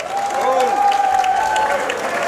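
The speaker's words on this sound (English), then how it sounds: "Can hear the crowd behind us" A crowd claps and cheers steadily in the stands before a Navy versus Fordham water polo match, a sustained wash of applause heard alone.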